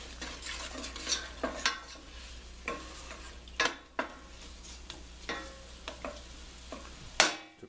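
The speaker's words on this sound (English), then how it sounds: "I want to saute that Swiss chard and spinach very fast." Swiss chard and spinach being sautéed fast on high heat in a big pot, with a spoon stirring and knocking against the pot in uneven clatters over a faint sizzle.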